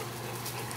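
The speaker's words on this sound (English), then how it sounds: "they're sure having a good time with your puppies, Stacy" Puppies playing in a home with other dogs, whimpering and panting in a dense, steady wash of close, breathy, high-pitched sound with no talking.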